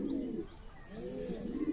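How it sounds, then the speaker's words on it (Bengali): Racing pigeons coo at a pigeon farm in Rajshahi, giving two low, throaty rolling calls close by, with no talking. "দেখছেন এই যে ডাকাডাকি করতেছে রেসার দুটা নোয়ার দুই দিক থেকে"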